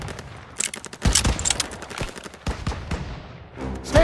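Gunfire in a Call of Duty WWII stronghold mission: a dense volley of sharp, overlapping rifle and machine-gun shots, loud and close, crackling irregularly across the whole stretch with battle noise behind.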